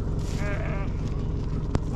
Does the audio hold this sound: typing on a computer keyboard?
no